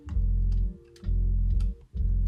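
An organ's bass pedal from a Silos studio session on its own mic: deep, booming low notes held in rhythmic blocks with brief dips between, heavy and close, with light upper bleed and no talking.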